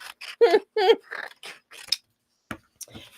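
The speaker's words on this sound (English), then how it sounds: "these are paper scissors" Paper scissors snip a few times in quick succession, close and crisp, mixed in with bursts of someone talking nearby.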